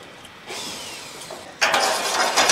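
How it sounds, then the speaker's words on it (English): A power drill boring new holes in rolled steel joists on a floor installation site, with a steady whirring rise that jumps to a louder, harsher grinding whine partway through. "Now we got new holes drilled."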